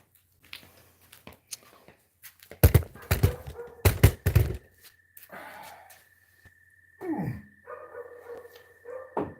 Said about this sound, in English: Just stop with the barking over there!